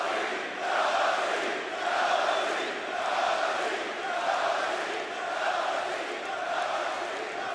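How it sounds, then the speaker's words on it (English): A capacity crowd at a WWE NXT TakeOver: WarGames 2018 wrestling event roars and cheers continuously, a dense wall of voices swelling in waves with no single speaker standing out. "Feed off the emotion of this capacity crowd"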